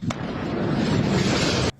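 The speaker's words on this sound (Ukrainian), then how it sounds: "Дуже потужні вибухи." A powerful explosion from bombing in a port city at night: a single sharp onset followed by a dense, loud roaring rumble that holds steady for over a second and a half before cutting off abruptly.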